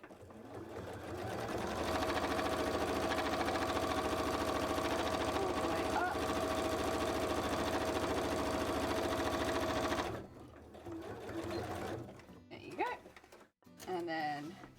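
A sewing machine runs top stitches on cosplay pieces, a fast, steady, close stitching run lasting about eight seconds before it stops, followed by quieter handling and talking.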